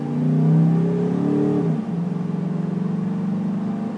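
A 2007 Chevrolet Tahoe on 22-inch wheels accelerates hard, its engine note loud and steady, dipping briefly as it shifts before pulling on with a smooth, continuous drone; no talking.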